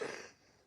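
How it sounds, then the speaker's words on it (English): A single throat-clearing cough, loud at the start and fading out within about a third of a second, with no speech around it. "got to get that cough cleared up"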